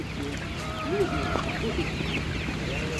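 Young laying hens cluck nearby in short, repeated bursts over steady background noise at an outdoor animal market.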